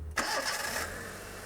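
A Proton car's engine cranks and catches, then settles into a steady, close idle that continues to the end.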